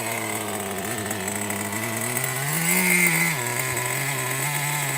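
A Megatech Nitro Razor nitro RC car engine idles steadily with a buzzing, raspy drone, rising briefly in pitch and loudness midway before settling back to idle.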